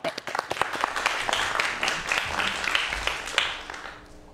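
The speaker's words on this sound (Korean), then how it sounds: "박수로 좀 청해 보도록 하겠습니다." An audience in a televised science lecture setting bursts into applause before the talk, a dense patter of clapping with sharp individual claps standing out, swelling then fading toward the end.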